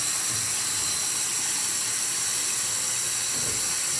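Water runs steadily from a tap while someone washes their face, a constant splashing hiss with no voices.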